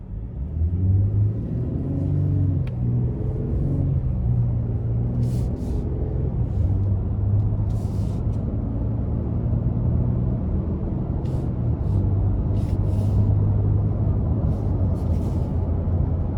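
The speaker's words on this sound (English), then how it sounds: "I like how this gets up to speed" A 2024 Nissan Frontier SV Hardbody with a 3.8 V6 accelerating, a steady low engine rumble with rising tonal bands, heard from inside the cab, sustained and fairly loud with faint ticking clicks above.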